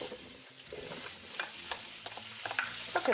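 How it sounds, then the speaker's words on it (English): Vegetables and tomatoes sautéing in a pan give a steady close sizzle, with soft stirring scrapes and occasional small pops over the continuous frying hiss. "So we'll go and put that in the pan and saute the vegetables"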